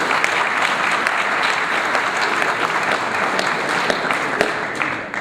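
An audience at a doctoral graduation ceremony claps in sustained, loud, dense applause that holds steady before tapering slightly at the very end.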